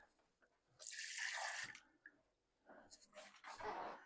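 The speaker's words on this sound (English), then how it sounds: "just a little extra water to help dissolve it just a little bit better, and just whisk that up really good." Water splashes into thick cherry pie filling for about a second, then a whisk briskly scrapes and sloshes through the mixture in close, quick bursts.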